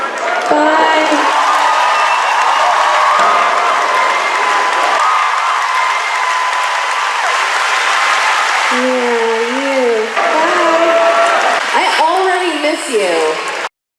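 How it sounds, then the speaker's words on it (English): A comedy club audience cheers and applauds as a heckler is escorted out of the venue, a dense, sustained wash of clapping and crowd noise with excited voices rising above it near the end. "The crowd cheered"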